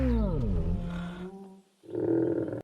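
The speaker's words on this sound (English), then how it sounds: "I like how all the sounds are kind of like low rumbles. That's kind of how I would expect Stegosaurus to sound." A low, rumbling roar from a Stegosaurus in the Prehistoric Kingdom video game: a deep, drawn-out bellow with a falling then steady pitch, a brief pause, then a second louder, growling burst up close.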